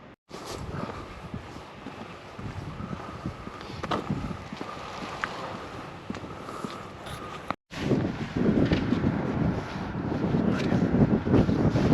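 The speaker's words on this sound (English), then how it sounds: "But that wind is picking up a little bit." Steady wind buffets the microphone on a country road near a village during a cycling ride toward a reservoir, a continuous broadband rush with gust swells and a brief dropout, no voices present.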